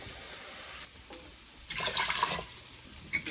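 Water is poured into an Instant Pot holding rinsed lentils, a soft splashing stream that swells partway through and then tapers off, fairly quiet with no voices.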